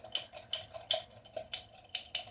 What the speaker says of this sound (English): Just continuously stirring this